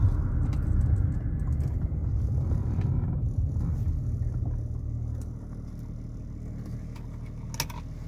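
A car drives past at night while an old BMW E34 travels along a road, its steady low engine and road rumble continuing under the passing vehicle, which fades toward the end.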